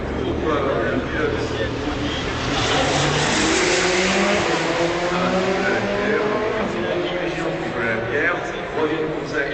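Race cars at the 24 Hours of Le Mans scream past at speed during an overtake, a loud roaring engine sweep that swells and fades under a French commentator talking over it.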